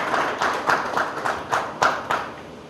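Audience at a tablet PC launch event clapping in a scattered, uneven burst of hand claps with several sharper individual claps standing out, moderately loud and close.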